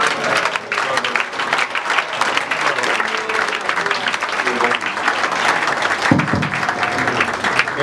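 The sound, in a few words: congregation applauding at a church ceremony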